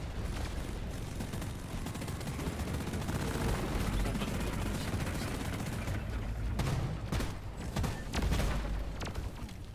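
Sustained, dense gunfire from a co-op shooter mission with a gunner class, rapid bursts and booms continuous and loud throughout, with heavier blasts near the end.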